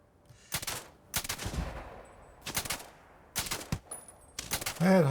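Sniper rifle shots in Starfield, five or six loud, separate cracks spaced a second or so apart. A faint voice speaks at the very end.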